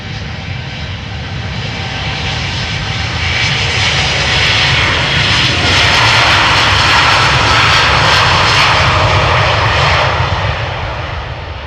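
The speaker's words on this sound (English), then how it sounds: "This is American Airlines flight 221, Boeing 7878 Dreamliner with destination Dallas-Fort Worth in Texas." Engines of an American Airlines Boeing 787-8 Dreamliner jet roar loud and steady at Amsterdam Schiphol Airport, swelling toward the middle and easing slightly at the end, with no voices.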